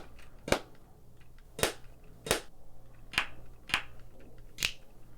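Clap drum samples auditioned one after another: six sharp, snappy claps, each distinct, spaced roughly a second apart over a faint low hum.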